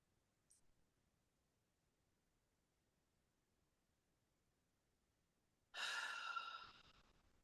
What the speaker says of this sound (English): I had an involuntary breath.